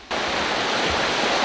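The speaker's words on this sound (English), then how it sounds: "It's a little river that is here." A small river rushes steadily along a hiking trail, a dense continuous roar of flowing water that starts abruptly and stays loud and close throughout, with no talking.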